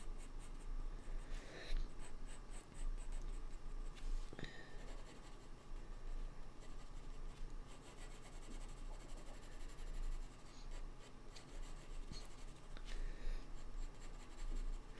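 Coloured pencil strokes on smooth hot press paper while drawing a hare, a steady close scratchy scribbling that runs continuously with small bursts and pauses in pressure.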